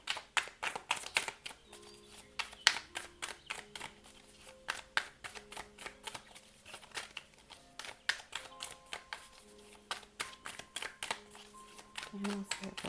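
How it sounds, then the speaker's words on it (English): Tarot cards are shuffled in quick, crisp riffles and flicks, a steady run of sharp papery bursts close to the microphone, with a soft tonal hum faintly beneath. "Again, I'll be pre-shuffling."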